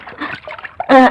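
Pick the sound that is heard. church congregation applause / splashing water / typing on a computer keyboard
splashing water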